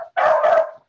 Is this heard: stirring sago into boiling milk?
no